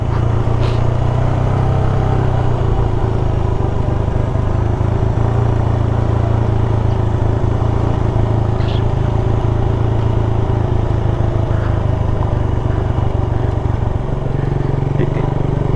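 Close, loud, continuous engine rumble from a motorcycle named Nova on a mountain ride in Tublay, Benguet, with wind noise and slight shifts in pitch as the ride goes on, and no speech.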